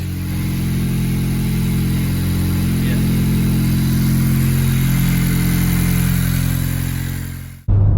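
A 2020 Honda Civic Si engine runs after a new intercooler install, with a steady, loud idle drone heard close up that continues without a break until a sudden cut near the end.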